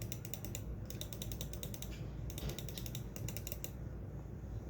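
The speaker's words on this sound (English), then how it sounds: "this is how my mouse sounds" Mouse clicks rattling in quick bursts of sharp, ratchety ticks, separated by short pauses, close up over a steady low hum with no speech.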